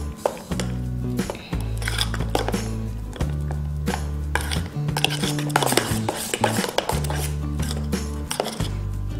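Grated carrot, ginger, green chilli and curry leaves are stirred into broken wheat idli batter in a bowl. Repeated clinks and knocks of a spoon against the bowl sound close by over steady background music.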